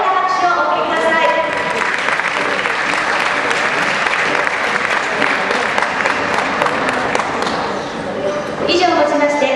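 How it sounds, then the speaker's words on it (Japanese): Sustained loud applause from a crowd at a wrestling championship award ceremony fills the whole stretch, steady and dense, easing slightly near the end. "どうぞ大きな拍手をお送りください。"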